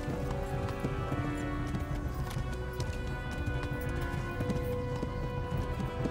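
Horse in the medieval game Kingdom Come galloping with a steady clip-clop of hooves, continuous and fairly loud against a busy game background.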